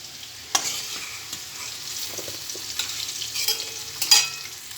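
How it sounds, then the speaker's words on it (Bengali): Mixed vegetables for a vegetarian ghonto frying in a pan: soft continuous sizzling with intermittent scraping stirs of a spatula, close and fairly quiet, no talking. "দেখুন বন্ধুরা, আমার সবজিটা ভাজা হয়ে গেছে। আমি এবার তুলে নেবো।"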